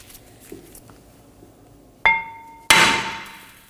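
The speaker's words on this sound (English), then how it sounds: "I'm going to strike it with a hammer" Two sharp metallic hammer strikes on a brake rotor to free it from the hub of a Nissan Maxima, the first ringing with a clear tone, the second a louder clang, after quiet shop background.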